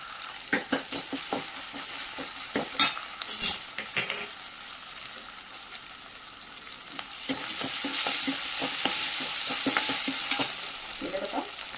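Curry leaves hitting hot oil with ginger garlic paste in the pan, sending up a bright spitting sizzle that swells midway, mixed with sharp clicking stirs and a few metallic clinks.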